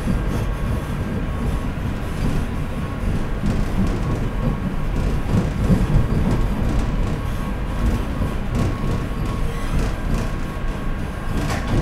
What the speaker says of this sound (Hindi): Train number 2097 Udaipur city Jaipur Vande Bharat.